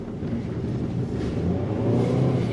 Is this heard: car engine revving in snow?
yes